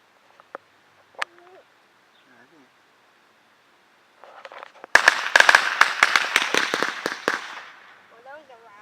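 Backyard family fireworks and firecrackers go off after a quiet stretch with a few faint chirps, a loud burst followed by a dense, crackling run of rapid pops that fades out over several seconds.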